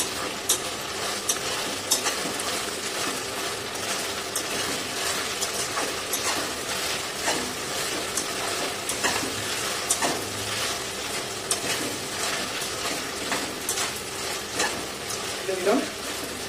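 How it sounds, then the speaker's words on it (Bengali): Ginger paste sautés in a pan for pepper chicken, giving a steady close sizzle and frying hiss broken by repeated stirring scrapes throughout, with no talk. "তো আদা পেস্টটা দেওয়ার পর একটুখানি আমি সাঁতলে নেবো।"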